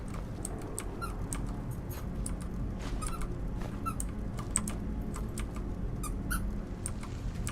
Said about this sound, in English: You can probably hear her squeaking away there.